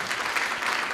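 Enthusiastic applause from an audience at a college induction program, honoring a student; a dense, steady wash of many hands clapping throughout, fairly loud and close, with no talking over it.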